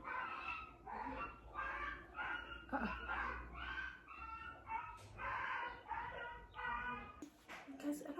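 Neighbours' dogs whimper and bark off and on in a series of short, rhythmic yelps and whines, moderately distant and faint, with a rooster-like call mixed in and a voice briefly near the end.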